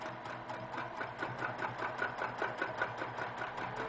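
A sewing machine runs steadily while stitching a filler quilting stitch in a quilt block, giving a fast, even mechanical whir with a regular pulsing rhythm, close and moderately loud, with no talking.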